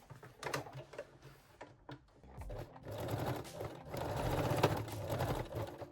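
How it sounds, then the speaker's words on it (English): A sewing machine runs a straight stitch to lock the side seam of a fold-over-elastic Iris thong, a close, moderately loud rattling whir that starts and stops in short runs before settling into steadier stitching. "lock the seam with a straight stitch"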